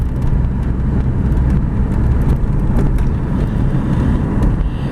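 A 1986 Volvo 240 244DL climbs a hill, its engine giving a steady, even, broadband drone with road and tire rumble heard from inside the cabin, loud and continuous without any talk.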